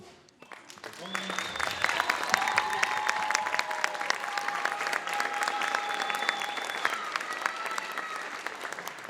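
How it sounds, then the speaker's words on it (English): Sustained applause from a large audience at a high school wind ensemble spring concert, steady clapping that swells in after a moment and continues with a few cheers and whistles. "give you a big round of applause"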